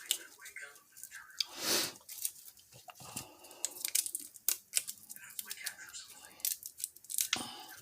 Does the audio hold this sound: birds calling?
no